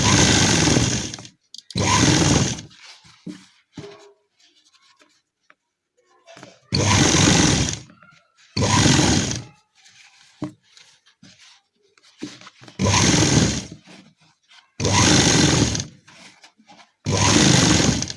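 A sewing machine stitches along the elastic edge of a gharara in loud, steady bursts of about a second each, separated by pauses with quiet handling and brief speech.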